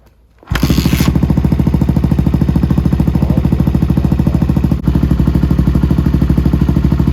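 A Suzuki DRZ400SM motorcycle fitted with an FCR39 carburetor starts and settles into a loud, steady idle with an even rapid thump, briefly dipping once before carrying on, close by with no talking.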